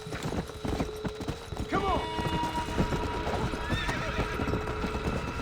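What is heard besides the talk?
fire horse hooves and neighing in video game Red Dead Redemption Undead Nightmare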